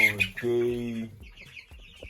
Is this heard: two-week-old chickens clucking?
yes